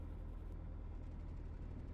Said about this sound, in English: Just confirm the engine's running okay.